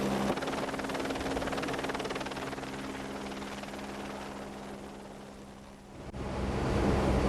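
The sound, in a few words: helicopter departing from a ship's flight deck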